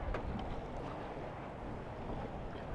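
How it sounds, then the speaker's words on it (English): Strong wind roars across a sailboat at sea, a dense, steady rush of buffeting air and microphone wind noise with no talk. "pretty much right from the start, we had wind, plenty of it"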